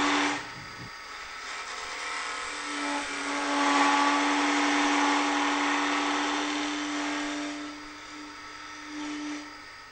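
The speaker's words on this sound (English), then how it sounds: "if too heavy a cut is taken, it can lead to vibration and chattering, as we can hear now." Wood lathe turning tool taking too heavy a cut, a steady whirring hum with a buzzing, chattering vibration and a strong pitched tone that swells midway and eases off, close and continuous.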